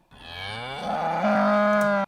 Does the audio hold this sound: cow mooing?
yes